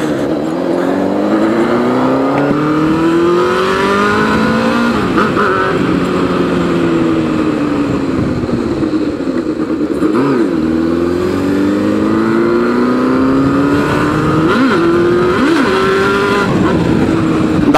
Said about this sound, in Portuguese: Só umas cutucadinhas na moto assim pra ver se ela sobe.